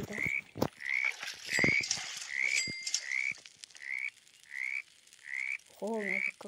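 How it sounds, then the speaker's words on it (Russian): Toads croak in a forest lake in the video game 99 Nights in the Forest, a rhythmic series of about ten short, evenly spaced calls, with a few clicks and rustles between them. "Опять жабки, да?"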